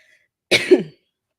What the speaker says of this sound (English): have a little bit of cough in the meantime